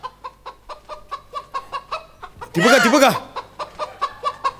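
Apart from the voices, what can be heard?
jungle fowl calling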